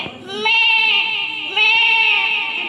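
A person at a residential school mimicry performance imitates a goat's bleat: two quick, loud, wavering bleats in succession, heard close and alone.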